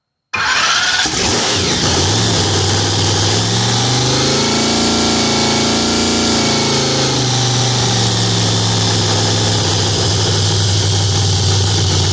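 A Hemi engine, on its first start-up of 2025 with dried-out O-rings leaking fuel, cranks and catches, then settles into a loud, close, steady idle with shifting rumbling tones.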